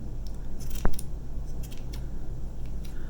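Scissors give a few light snips while trimming the fibre beard of a small handmade craft gnome, with one sharp, close cut standing out against a quiet room hum.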